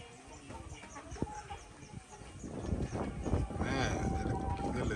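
Chickens on a small farm in Burundi, with a few clucks and calls rising over a busy, noisy background while someone talks nearby.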